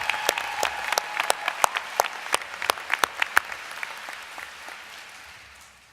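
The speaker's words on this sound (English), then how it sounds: "How about a big round of applause to Adam Hamavi for excellent speech" Audience applause at a School of Business commencement ceremony, a sparse scattering of distinct hand claps in a large hall that thins out and fades into near silence at the end.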